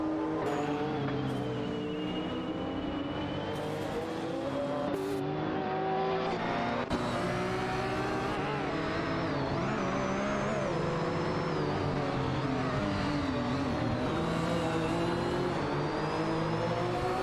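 In a racing game, a McLaren F1 and a Porsche 911 race neck and neck, their engines droning and revving in shifting, layered whines that rise and fall as gears change, with a brief tire squeal, loud and continuous, with no voices.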